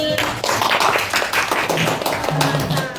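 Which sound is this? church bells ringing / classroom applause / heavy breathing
classroom applause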